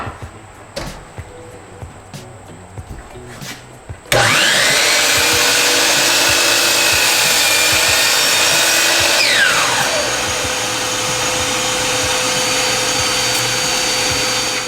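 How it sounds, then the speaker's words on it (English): A chop saw spins up with a loud, sustained whine and bites through a wooden scrap, the pitch dropping under load as the cut finishes, close and alone after some quiet handling noises. "I'm actually going to take this to the chop saw and cut it off right here"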